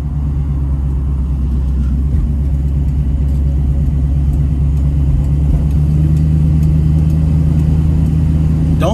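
A 1969 Pontiac Trans Am engine rumbles steadily while driving, a deep, loud low drone with a constant tone and no voices over it.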